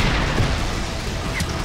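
A dense, loud rumbling blast rolls on for under two seconds during an explosion in Just Cause 3, with broadband crackle and low booming that never settles into quiet.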